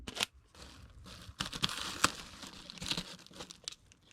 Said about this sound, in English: we need a half a piece of bubble wrap. And a piece of tape.